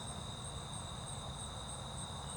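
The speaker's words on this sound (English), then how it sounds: "Just love the little toad or frog in the background noise." Steady chorus of small frogs or toads calling at night in Texas under a dark sky, a faint continuous trilling drone with high shimmering pulses, distant and unbroken.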